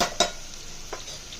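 A spoon stirs a tablespoon of turmeric into curry masala frying in a pan for egg curry, giving two or three brief scraping clinks over a soft sizzle.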